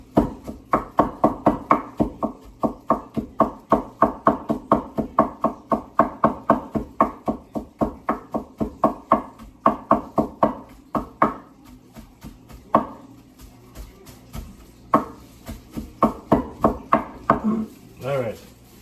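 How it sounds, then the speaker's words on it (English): Garlic is minced with a big knife on a board, giving rapid, steady rhythmic chopping thuds close by, with a short pause partway through before the fast chopping resumes. "Got the garlic, you got to mince it up."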